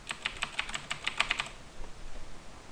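Rapid clacky keystrokes on a loud computer keyboard, a quick burst of about a dozen close, crisp taps that stops halfway, leaving quiet room tone.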